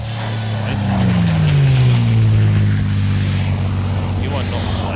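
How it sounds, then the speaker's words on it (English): A propeller aeroplane flies past in the video game Paper Train, a loud droning hum whose pitch glides downward as it passes close by, then settles into a steady lower drone. "Stop distracting me with that aeroplane."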